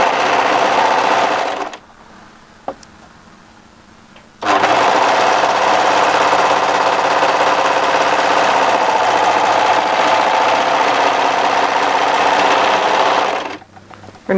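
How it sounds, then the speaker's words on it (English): An overlocker stitches the sleeve hem of a wrap cardigan in loud, fast, buzzing bursts. A short opening run is followed by a pause with a small click, then a long steady run that stops near the end. "let's just overlock our hem into position."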